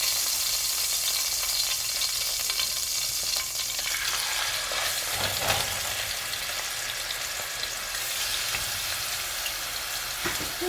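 Chicken pieces fry in a pan for a Tuscan chicken dish, giving a steady, dense hiss of sizzling oil with occasional spatter pops and faint stirring noises throughout.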